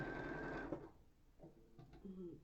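A sewing machine stitches quilt block seams for a disappearing hourglass block, a steady whirring run that stops partway, followed by quieter handling and brief short bursts, with a voice speaking over it.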